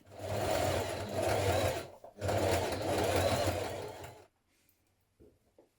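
A sewing machine edge-stitches around a shirt cuff in two steady runs of whirring with a brief pause between, then stops, leaving a few faint handling sounds near the end.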